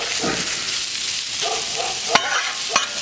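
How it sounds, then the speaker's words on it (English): Ground pork fries in sesame oil on a flat-top griddle while a spatula breaks it up, producing a steady close sizzle with soft scraping and two sharp metallic clicks toward the end. "Let's get our pork going on there. Get it broke up."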